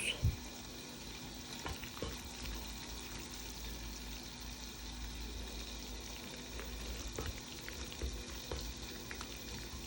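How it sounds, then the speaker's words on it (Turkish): Kuymak with added cheese melting in a pan, giving a faint, steady frying sizzle with occasional soft clinks and stirring bumps, close and quiet. "Evet kuymağın peynirini ekledim. Erimeye başladı."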